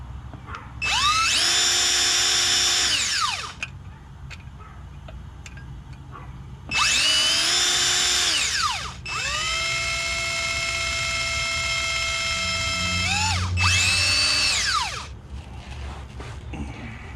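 Power drill whining on hard bolts of a 1989 GMC service truck, with three loud, sustained high-pitched runs of a few seconds each that rise and fall in speed, separated by short gaps.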